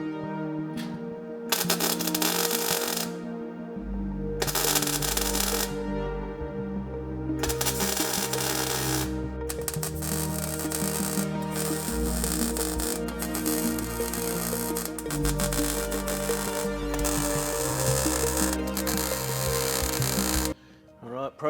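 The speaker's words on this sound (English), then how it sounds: "let's do some more welding." Repeated bursts of welding on the transmission tunnel of a 1973 Mazda project car with a Barra engine swap, each lasting a second or two with short pauses between, loud and close under a steady low background hum.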